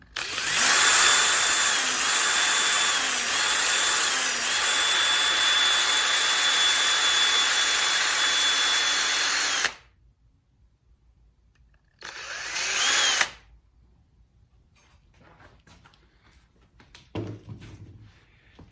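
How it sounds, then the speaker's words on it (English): A power drill spins steadily to twist a length of wire during CNC bedrail upgrades for an archtop guitar build, with a long loud continuous whine, a stop, then a second shorter burst before quiet. "And now we'll just run the drill and put a bunch of twists in this wire."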